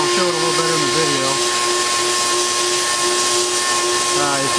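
Harbor Freight sandblaster with a bottom-feed upgrade and a plain high-quality nozzle blasts in a loud, continuous broadband hiss that rushes on without a break. A steady tone and a brief voice sit under it.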